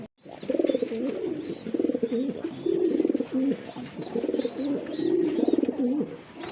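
Native and foreign pigeons kept for wholesale sale coo repeatedly and close by, their overlapping throaty calls rolling on almost without a break.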